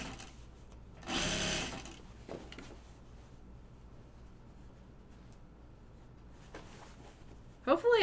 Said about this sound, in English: That's serging.